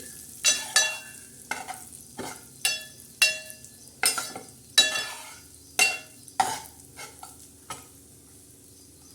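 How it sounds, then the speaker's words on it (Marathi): Cashews and almonds are stirred and dry-roasted in a pan: a steady series of sharp scraping, rattling strokes roughly once a second, close and clear, with no voices. "आपण थोडंस काजू बदाम असे थोडे हलवून घेणार आहोत म्हणजे आबडदोबड भाजणार आहोत"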